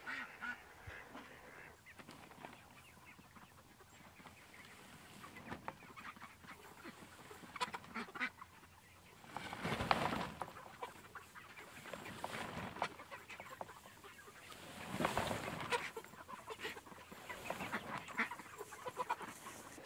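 Poultry cluck and murmur in a group, with louder bursts of calls now and then over soft outdoor background noise.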